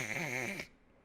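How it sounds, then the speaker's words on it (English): A person asleep snores once, a single near, harmonic inhaled snore that cuts off abruptly partway through. "Oh, I feel like such a creep for just listening to her snore."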